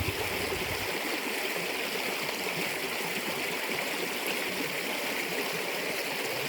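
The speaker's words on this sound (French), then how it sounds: "la rivière devient un petit peu plus petite parce on a passé une confluence" A small forest river flows just past a confluence, a steady close rushing and trickling of water that stays constant throughout, with no voices.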